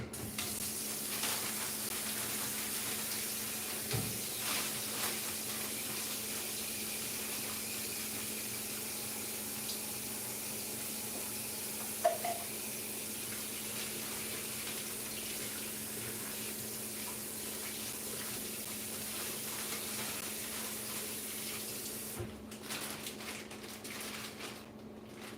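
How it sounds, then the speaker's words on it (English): Kitchen sink tap runs steadily while grapes are rinsed, a continuous close hiss and splash of water lasting throughout, with a faint change in the flow near the end and no speech. "Gonna wash my grapes in here."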